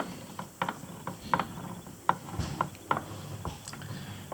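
Gear lever of a 1968 Muncie M20 four-speed manual transmission being shifted on the bench, giving a series of sharp mechanical clicks and clunks at irregular intervals, close and fairly loud.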